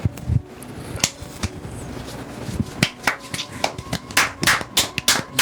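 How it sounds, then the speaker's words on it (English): A small group at a Dungeons & Dragons 5e tabletop session claps hands, scattered sharp claps growing denser and louder toward the end, with murmured voices in between. "I don't know why we're clapping."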